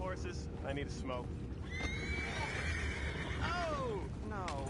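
A horse whinnies in Red Dead Redemption 2, a clear rising-and-falling neigh over a steady low ambient rumble, with brief speech-like voices heard before it.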